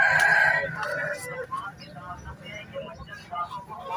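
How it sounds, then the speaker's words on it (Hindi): An aseel fighting rooster crows once, loud and close, at a bustling bird market, followed by lower clucks and scattered market noise with voices in the background. "लड़ने वाला मुर्गा मौजूद है।"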